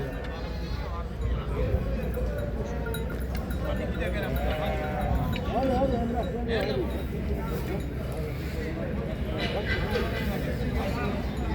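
Sheep and lambs bleat repeatedly amid a busy crowd at a livestock market in Çorum, Turkey, with steady chatter and market bustle throughout.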